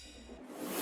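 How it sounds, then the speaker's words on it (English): Brief electronic riser swelling into a crash effect in a beat, a noisy sweep building upward over less than a second, fairly quiet and alone. "we got 2 rises and 2 crashes"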